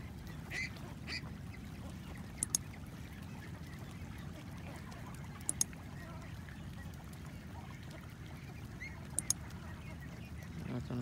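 Laying ducks on a duck farm quacking: a steady murmur of many birds at a distance, with a few faint, brief louder calls on top.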